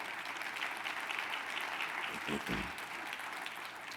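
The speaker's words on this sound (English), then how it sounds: "Can we give a round of applause for Walmart, Comcast, and Coca-Cola?" Steady applause from a crowd at a conference plenary session, sustained clapping at an even level for the whole stretch with no voices on top.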